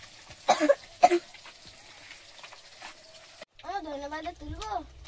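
A sick person at home coughs twice in short, close bursts near the start, followed by quiet and then a voice speaking.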